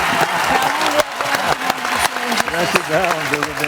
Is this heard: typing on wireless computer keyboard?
no